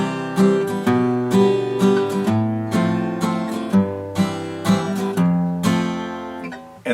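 Acoustic guitar plays a chord progression with a descending bass line, each chord sounded clearly and close with a ringing bass note, in a steady, unhurried rhythm with no voice over it.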